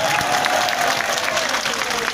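A crowd at an outdoor political rally in Delhi claps loudly and densely, a close, continuous roar of applause with a few faint cheers and no clear speech.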